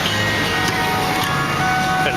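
1996 Ford Bronco Eddie Bauer with its engine running, a steady, even hum of idling close by with a faint high whine and no talking.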